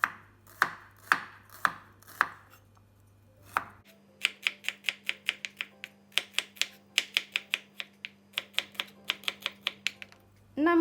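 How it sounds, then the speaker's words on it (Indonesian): Four shallots being sliced with a knife on a cutting board for a sweet soy chili sambal: a few slower chops, then a long, fast, even run of crisp close knife taps. "4 siung bawang merah diiris-iris"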